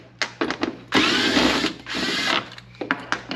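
Cordless electric driver backing the screws out of a Polaris RZR side-by-side's clutch cover, several short whirring bursts and two longer continuous runs, close and clear with no talking.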